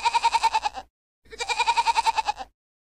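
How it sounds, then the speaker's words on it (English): A goat bleats twice, each a loud, close, wavering call lasting under a second, separated by a short silence. "Goat."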